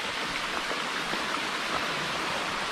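The Wedenbach waterfall spills over tufa rock in the Schauertal near Streitberg in Franconian Switzerland, a constant dense roar of rushing water, close and unbroken, with no voices.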